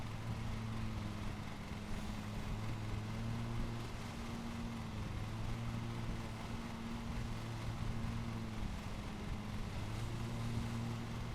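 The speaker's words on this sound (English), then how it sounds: "The RPMs are higher, the engine revolutions, but it does seem quieter." A riding lawn mower's engine runs at higher revs in the Lawn Mowing Simulator game, a steady low droning hum with faint wavering pitch that stays even and quiet throughout, with no voices.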